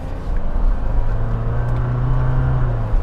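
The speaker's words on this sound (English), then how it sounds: "That 2-liter four cylinder, I'm not a big fan of how it sounds" A 2021 Jeep Wrangler Rubicon 4xe with its 2-liter four-cylinder engine running while driving, heard from inside as a steady, loud low drone with a faint whirring tone and road rumble, no voices.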